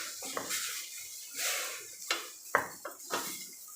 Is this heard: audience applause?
no